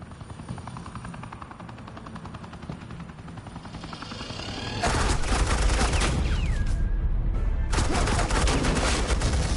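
Sustained suppressing gunfire in the Batman Telltale series game bursts in loud and dense after a low rumbling helicopter-like drone, a continuous rapid rattle of automatic weapons filling the second half.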